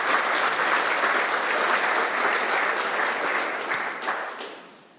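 Steady, dense applause from an audience at a whisky masterclass during the Fèis Ìle 2022 festival, holding loud and even before fading out toward the end.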